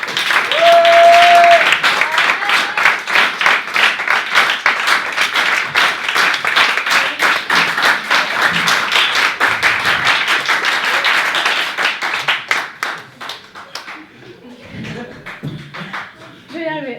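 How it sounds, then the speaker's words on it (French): A congress audience gives speaker Maayane Pralus sustained, loud applause of many hands clapping, which fades after about twelve seconds into scattered claps and quieter room noise. "Je vous demande d'applaudir Mayan Tralus."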